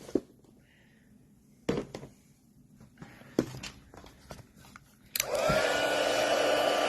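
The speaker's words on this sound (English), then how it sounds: "we have an embossing tool that has two heating elements to it" After a few scattered taps and footsteps, an embossing heat tool with two heating elements switches on, blowing a steady, loud, hairdryer-like whoosh at close range to heat embossing powder.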